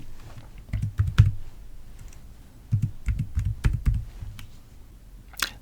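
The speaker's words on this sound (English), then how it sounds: "Then I press the enter key on my keyboard." Bursts of quick keyboard typing, clicky keystrokes in two clusters separated by a short pause, close and fairly quiet, with no speech.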